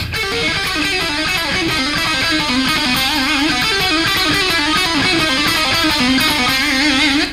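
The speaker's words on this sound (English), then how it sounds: "You can do more pull-offs if you want to, which sound kind of like this." Rock electric guitar lick with fast legato pull-offs, a continuous stream of quick, fluid notes played up close and loud for the whole stretch, with no talking.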